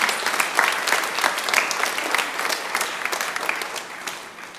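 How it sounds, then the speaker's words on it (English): Audience applause at an elementary school veterans assembly, a steady, lively round of many hands clapping that holds evenly and tapers slightly at the end. "Let's give Briar a round of applause."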